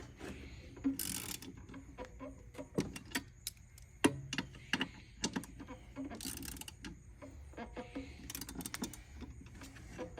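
A 14mm socket wrench clicks through quick ratcheting bursts on a Honda lawn mower blade bolt, faint rapid ticking in uneven runs with occasional louder clanks.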